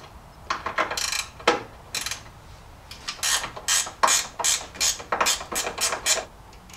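A ratchet wrench loosens a 10 mm bolt holding the battery ground cable on a Dodge Ram, giving bursts of quick metallic clicking strokes, close and fairly loud with brief pauses between runs.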